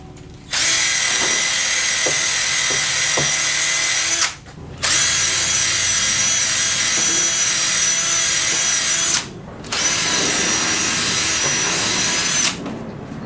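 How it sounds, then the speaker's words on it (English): A nylon gun-cleaning brush scrubs bolt holes in a new jackplate for a 1999 Champion boat's Mercury 200 EFI, making three loud, close, whirring power-tool bursts with short pauses between them. "So I use my gun brush kit with a nylon brush."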